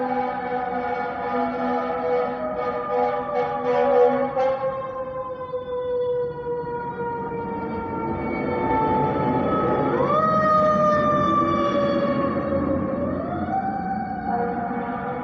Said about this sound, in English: A fire engine just went by.